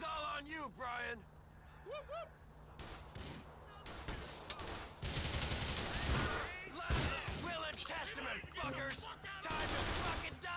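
Rifle fire from an M4 in GTA IV: The Lost and Damned, arriving as scattered shots and then dense bursts in a noisy firefight, heard under talking voices.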